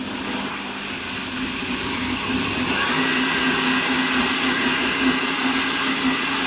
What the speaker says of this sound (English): I'm going to bring my food processor home